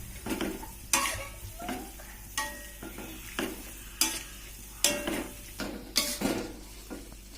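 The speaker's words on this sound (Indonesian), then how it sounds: "Kita aduk lagi, kita aduk sampai rata." A spatula stirs chopped green onion through a frying yellow rice mixture with chicken intestines and gizzards, giving rhythmic scraping strokes against the pan roughly every second over a soft, steady sizzle.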